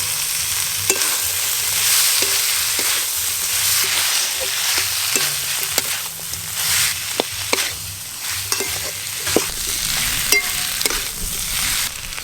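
Fried potato, eggplant, banana flower and a fried hilsa fish head go into a pan of Bengali village-style mochar ghonto, with a steady close sizzle broken by scraping stirs and clanks throughout.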